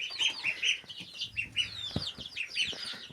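A laying hen clucks in a steady series of clear, close calls after reaching her nest by the chick-filled coop, with a brief wing flutter partway through.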